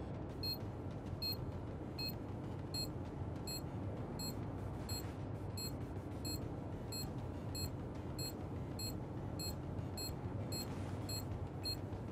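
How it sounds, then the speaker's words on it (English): Planted bomb in Counter-Strike 2 beeping in short regular high-pitched bleeps, quickening slightly over time, set against a low steady in-game background hum with no talk. "Bomb has been planted."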